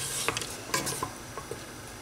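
A simmering pot of hamahloul sauce is stirred, with a soft bubbling hiss under a few light clinks and scrapes of a utensil against the pan, close and fairly quiet.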